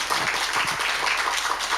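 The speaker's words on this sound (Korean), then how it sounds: "우리 올해도 변함없이 수고해 주시라는 의미에서 격려의 박수 한 번 더 부탁드리겠습니다" Church congregation applauding during a Sunday morning service, steady mid-level clapping filling the room throughout, with faint voices underneath.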